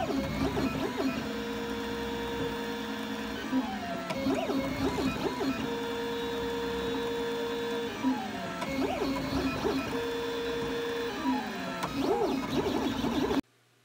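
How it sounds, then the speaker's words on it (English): A 3D printer printing a mounting bracket, its stepper motors whirring in continuous shifting tones with repeating sweeps and pauses, steady and close with no voices. "let's take a second and let's watch this bracket print."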